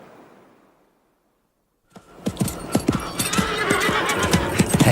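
Hooves thud in a fast galloping rhythm that starts abruptly after almost two seconds of near silence. A loud neigh rises over the pounding beats, and the whole sound is close and energetic.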